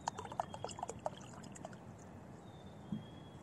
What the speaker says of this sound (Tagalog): Tapos, wait lang, lumamig na yung kape ko. Dagdagan natin para uminit.